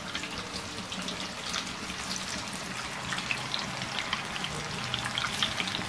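Potato and spinach pakoras frying in hot oil, giving a steady, dense crackle and sputter that stays fairly even throughout, with no talk.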